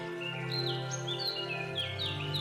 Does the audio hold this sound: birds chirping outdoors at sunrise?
yes